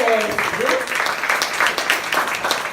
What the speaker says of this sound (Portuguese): Vamos aplaudir essa mulher, vamos começar a aplaudir